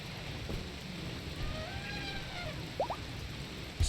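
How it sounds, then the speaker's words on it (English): Steady rain hiss from the RimWorld video game during foggy weather, a continuous soft wash with a few faint higher tones and light clicks over it, no voices. "That foggy rain's kind of crummy."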